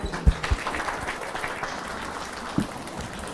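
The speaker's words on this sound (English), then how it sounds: "Can we all stand up and give His Excellency a clap offering?" An audience standing to applaud after a speech at an event with Kenyans in Swindon, UK: a patch of clapping with a few sharp claps, moderately loud and with no talking.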